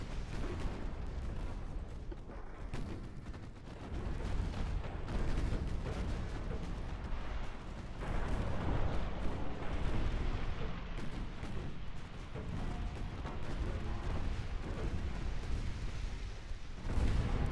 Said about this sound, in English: Our own fucking idiots are shooting our fucking ships.